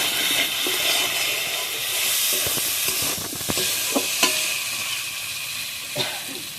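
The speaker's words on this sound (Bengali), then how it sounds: "দিয়ে আমি ভালোভাবে এবার আলুটা কষিয়ে নেবো" Potatoes sizzle hard in hot oil with ground cumin while a utensil scrapes and stirs them in the pan, a loud steady hiss broken by sharp clinks and scrapes.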